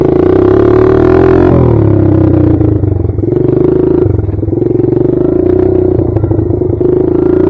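A Kawasaki KLX140 dirt bike engine fires back up and settles into a steady, loud, close idle, its tone dipping briefly after the start before holding an even, buzzing rhythm throughout.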